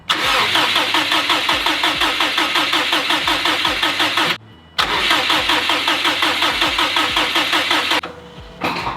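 A 2005 Subaru STI engine being primed without fuel, cranking with a fast rhythmic starter churn, pausing briefly, then cranking again for several seconds; loud and close with no talk.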